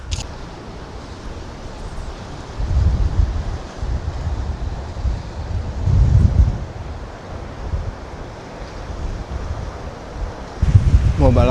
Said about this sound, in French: Là c'est venteux à mort.